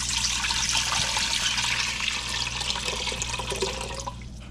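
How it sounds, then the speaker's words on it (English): Water pours steadily into an Instant Pot holding hog maw for cooking, a continuous splashing rush that carries on throughout and tapers slightly at the end, with no voices over it. "so let's go ahead and add the water"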